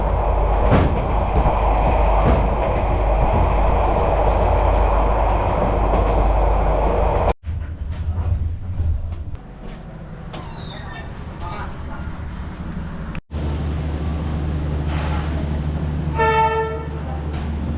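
A premium luxury train travelling from Hue to Hanoi in Vietnam, a steady loud rumble of carriages on rails that shifts and drops in level partway through, with a brief tonal horn-like whistle near the end and faint talk.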